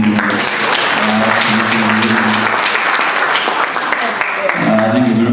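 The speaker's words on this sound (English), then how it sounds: "Clapping is the easiest exercise you can do, so let's clap again." Steady, dense applause fills the room from a conference audience at a real estate and infrastructure event, sustained evenly across the stretch with a speaker's voice audible over it at the start and end.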